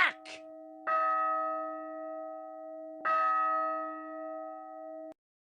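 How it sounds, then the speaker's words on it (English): An alarm bell rings out in a staged Macbeth performance, two sustained resonant strikes about two seconds apart, each ringing on with a long clear tone after a brief opening noise. "Ring the alarm bell."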